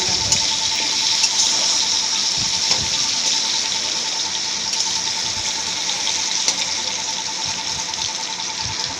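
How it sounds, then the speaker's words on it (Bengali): Potatoes fry in hot oil in a kadai, giving a continuous bright sizzle with a few faint pops, steady and close, with no talking. "দেখুন ভালো করে লাল লাল করে আলুগুলো ভেজে নিচ্ছি।"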